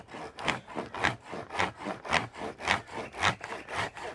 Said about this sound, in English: you can see how effective these hand saws can be without the noise